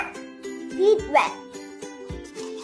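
A whisk clinks against a bowl while egg yolks are beaten with sugar and salt for a chocolate chiffon cake batter. The light metallic taps come close and intermittently, with someone talking over them.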